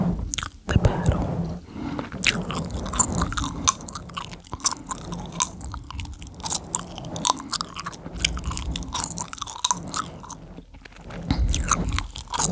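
Gum chewed close and wet, with a steady run of snaps and crackles mixed with squishy mouth sounds throughout, no talking.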